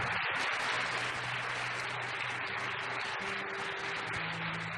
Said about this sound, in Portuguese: Você pode aplaudir o Senhor, gente?